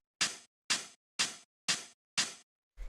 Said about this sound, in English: The next thing that we have here is this hi-hat,